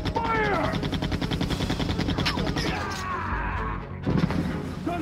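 Rapid bursts of automatic gunfire in Resident Evil 2, loud and dense for most of five seconds, with a brief lull before a final burst while a voice calls out over the shooting.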